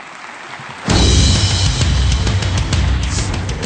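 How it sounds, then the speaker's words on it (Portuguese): Audience applause at an industry conference debate in Brazil, welcoming the journalist moderator to the stage; after a quiet opening the clapping bursts in suddenly and stays loud and steady to the end. "sob os nossos aplausos, por favor"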